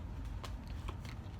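Brief riffling of playing cards being shuffled, a few quick papery bursts close by, fairly quiet with no talking.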